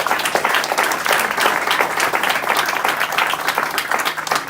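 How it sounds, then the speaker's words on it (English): A roomful of people at a healthcare roundtable applauds the panelists, dense, steady clapping at full strength throughout with no voices over it. "will you join me in a round of applause for our excellent panelists?"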